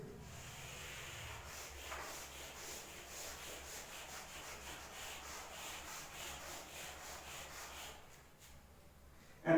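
Steady dry rubbing of a duster or cloth wiping writing off a board, a continuous scrubbing texture for about eight seconds with faint strokes, fairly quiet and alone with no talk.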